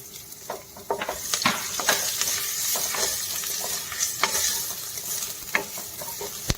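Ginger and whole garlic cloves fry in a hot pan with a steady, bright sizzle, broken by frequent scraping stirs and small clinks throughout.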